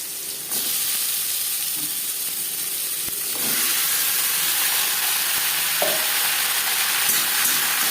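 Cumin seeds and a bay leaf frying in hot oil give a steady, loud hiss and sizzle that swells partway through, with a few faint stirring clicks and no talking.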